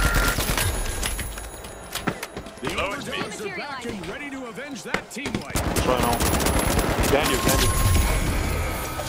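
Rapid automatic fire from the FCAR rifle in The Finals, loud bursts of gunshots with a short pause in the middle, mixed with game effects and voice chatter.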